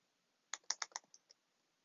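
A computer keyboard typed in a quick burst of about seven crisp, close key clicks lasting under a second, surrounded by quiet.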